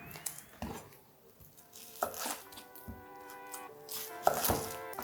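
Knife cutting a red onion into very fine julienne on a board, a series of soft, irregular chops and taps close by, with no talking.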